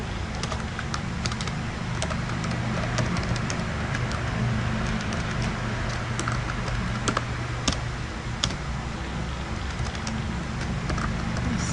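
Keyboard keys are typed steadily while logging in to Windows 7, with continuous keystroke clicks and a few sharper key taps over a constant low hum of computer fans.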